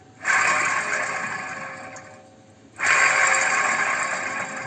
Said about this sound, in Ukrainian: Це так гудить підшипник.